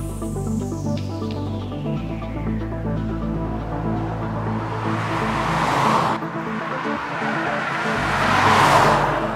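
A 2025 Volkswagen Nivus GTS drives along Estrada dos Romeiros with a steady, close engine drone that climbs in pitch as it accelerates, briefly dips, then swells louder near the end, with no talking.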